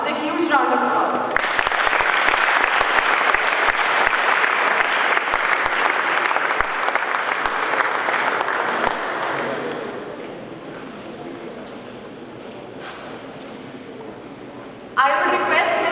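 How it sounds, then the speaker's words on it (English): An audience at a COALESCE '19 talk applauds to welcome a speaker, dense clapping loud for about nine seconds then tapering to a thinner patter before a voice briefly returns. "please join me in welcoming Dr. Avik Sarkar with a huge round of applause"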